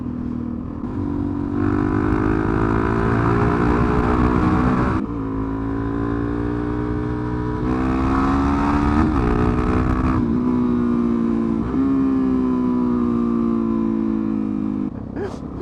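A motorcycle ridden fast on back roads, its engine loud and close with rising revs and several gear changes, some wind noise over the top.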